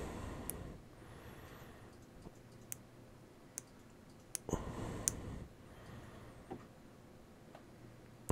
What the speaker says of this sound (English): So we're just checking for a click on each position.